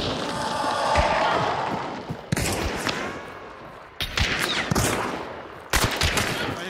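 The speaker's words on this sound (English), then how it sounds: "I shot him in the head." Gunfire in Hunt Showdown: loud, close shots and rapid bursts with sharp cracks at irregular intervals over a noisy battle background, several abrupt booming reports cutting in.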